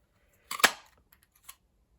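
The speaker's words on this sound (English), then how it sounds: "I'm just going to use the punch, and I'm going to just cut a couple of stems out" A paper punch snaps through dark brown cardstock to cut small stem shapes: one sharp crisp crunch with a faint follow-up click, near and alone in a quiet room.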